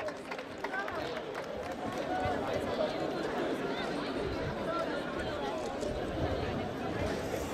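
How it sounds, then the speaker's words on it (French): Spectators at a student debate final give loud, continuous applause, a thick wash of clapping mixed with crowd chatter that holds steady throughout. "On applaudit bien fort, mesdames et messieurs."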